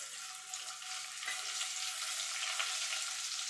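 Chopped ginger added to cumin seeds frying in hot oil for a dhaba-style matar paneer, giving a steady, close, bright sizzle that swells slightly after the ginger goes in.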